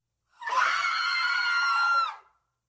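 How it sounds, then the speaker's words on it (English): Several people scream together as a car veers onto a sidewalk, a sustained high-pitched chorus of shrieks lasting about two seconds, loud and close, with no other sounds beneath it. "Pedestrians scream and scatter."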